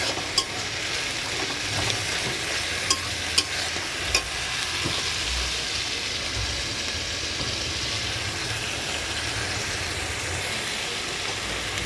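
Spice masala for a chicken kosha curry is stir-fried in a pan, giving a steady close sizzle with a few sharp spatula clicks and scrapes early on and no talking.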